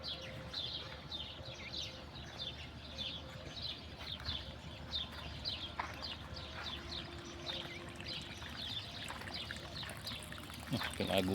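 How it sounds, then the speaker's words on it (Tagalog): Water is poured onto garden plants, a continuous trickling splash close by, quiet against the outdoor background. "Pinagusan ko ng tubig para sumigla na naman yung tanim ko."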